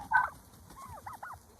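Farm turkeys gobble in short warbling bursts, one loud call near the start followed by quieter repeated gobbles, over a low background murmur.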